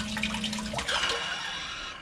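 A sump pump in a floor pit sends water rushing out in a steady, hissing gush that keeps going throughout, close and fairly loud, with a low hum underneath at first.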